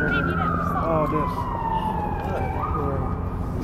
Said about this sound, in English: even that siren you're hearing